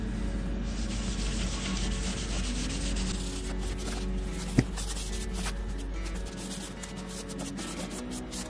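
Quiet rubbing strokes of paste wax being applied to a brand-new metal lathe extension for a Rikon 70-150VSR lathe, a soft continuous scrubbing with one small tap midway, close and low in level.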